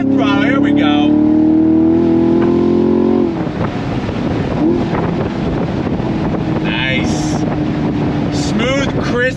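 A 2024 Chevrolet Camaro SS with a Tremec manual gearbox accelerates hard under throttle, its engine note climbing steadily before a gear change gives way to a rougher, windy drone. Someone speaks over the engine.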